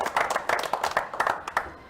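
Audience clapping for a poker player introduced at the final table of a $400 no-limit hold'em tournament event, a brief round of scattered applause rising and falling for about two seconds.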